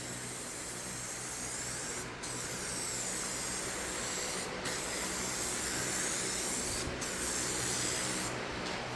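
Aerosol clear coat hisses steadily onto a car headlight in long continuous passes, broken by three brief pauses, close and alone with no talk.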